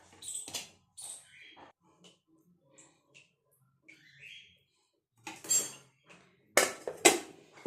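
A knife slices boiled eggs in half on a board for a deviled egg recipe, with sparse, quiet clicks and taps at uneven intervals and a few louder knocks near the end.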